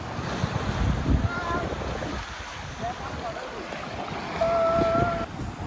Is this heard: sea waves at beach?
yes